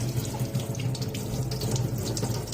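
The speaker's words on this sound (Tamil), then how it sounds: "இப்போ டேப்பில் நீங்கள் நல்ல ஒரு தடவை வாஷ் பண்ணிக்கலாம்." A cleaned crab is rinsed under a running kitchen tap, with a steady, close rush of water splashing into the sink throughout and no voices.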